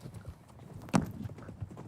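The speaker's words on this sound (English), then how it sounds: "I'm riding a horse at the California Polo Club" A horse ridden at a polo club stable, its hooves clip-clopping on a dirt arena in a steady trotting rhythm, close and fairly quiet, with one sharper thud partway through.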